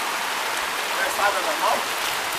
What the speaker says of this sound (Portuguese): 5 minutos de chuva.